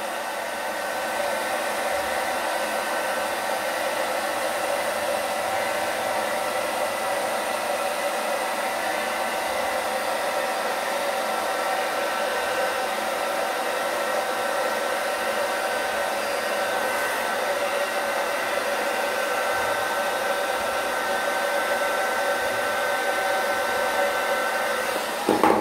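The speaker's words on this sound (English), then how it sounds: "Now what I'm gonna do is I'm gonna go back up underneath, but blow dry it from the top." Hair dryer blowing continuously on a beard, a steady close whooshing drone with an even high whine that holds for the whole stretch, no talking.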